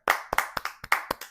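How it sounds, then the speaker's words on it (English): Several hands clapping in a quick, uneven burst of about eight sharp, close claps, brief and unaccompanied by any voice. "we need to give a round of applause to Taylor Swift and Travis Chelcie"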